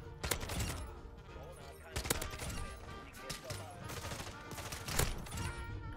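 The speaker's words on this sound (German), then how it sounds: "überall Schüsse, was halt nicht gerade so unstressig ist" Rapid automatic gunfire from a submachine gun in Call of Duty Modern Warfare 2, dense bursts of shots with loud cracks near 0.3, 2 and 5 seconds, continuous and close throughout.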